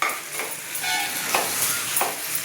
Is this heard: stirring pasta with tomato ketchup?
yes